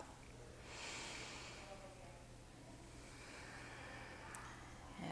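A single deep breath drawn during a seated yoga twist, a soft close inhale rising and fading over a couple of seconds against a faint hum in a quiet room.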